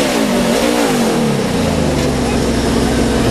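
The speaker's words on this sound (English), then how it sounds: "you can hear Kevin really had the engine revved up there" Kevin Harvick's NASCAR race car sits on pit road with its engine revving hard and steadily, a loud, sustained roar with rising and falling harmonic tones, crowd and voices faintly mixed underneath.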